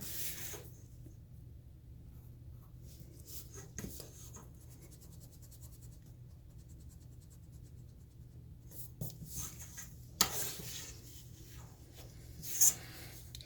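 Pencil drawing straight lines on paper for an isometric sketch, soft, faint scratchy strokes in short bursts with quiet pauses between them, close up.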